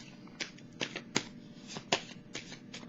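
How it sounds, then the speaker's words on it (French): Tarot cards being shuffled by hand at home, a quick series of crisp riffling snaps and soft slides, close and fairly quiet, with no talking. "quand je brassais les cartes"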